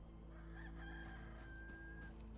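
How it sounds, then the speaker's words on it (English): A rooster crows in the survival game Enshrouded, one long, fairly faint crow over a steady droning hum of in-game ambience. "And that's the rooster crowing."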